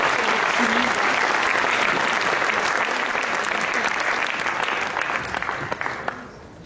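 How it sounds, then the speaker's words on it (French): Audience applause at a closing ceremony, a dense, steady clapping from a crowd that fills the room and then tapers off toward the end, with no talk over it. "On peut l'applaudir, hein."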